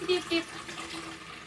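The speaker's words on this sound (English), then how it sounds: "I should add water. We need some water." A kitchen tap runs water into a pot for making curry, a short steady splashing flow with a tonal ring at the start, close and moderately quiet.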